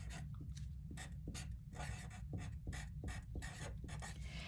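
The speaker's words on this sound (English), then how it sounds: "so write your name here." Pen or pencil scratching across paper as a name is written by hand, a run of quick, close strokes over a low steady background hum.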